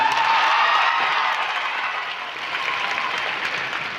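An audience at a poetry gathering in Patna applauds in a dense, steady wash of clapping that slowly eases off, with no voices over it.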